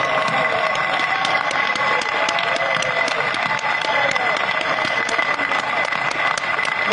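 During a Swahili-language church service, a congregation applauds loudly and continuously, a dense steady wall of clapping with some voices mixed in.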